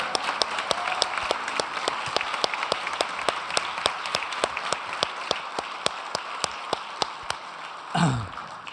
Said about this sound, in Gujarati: અને આ બધાની પાછળ દાખલો કરનારા એવા દીપકભાઈ ગુપ્તાને પણ તાળીઓથી વધાવી લઈએ